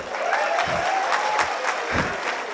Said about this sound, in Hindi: समझ में आई है तो ताली बजाओ ठीक से